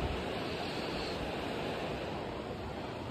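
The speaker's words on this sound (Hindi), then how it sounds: "बाहर चल रही है बहुत तेज़ हवा" Strong wind roars steadily outside at a roadside camp on the Delhi–Manali highway, near freezing, a constant broadband rush with no pauses or voices, loud and close to the microphone.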